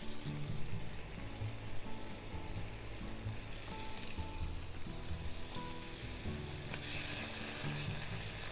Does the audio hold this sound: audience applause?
no